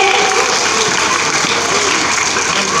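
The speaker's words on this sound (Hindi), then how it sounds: "बच्चों, एक बार जोरदार तालियों से अभिनंदन करिए।" Hearty applause from an audience of children at a centenary celebration welcomes a chief guest, a brief, dense burst of clapping that stays loud and even throughout.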